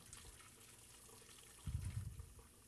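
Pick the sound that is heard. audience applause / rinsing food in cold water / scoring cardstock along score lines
rinsing food in cold water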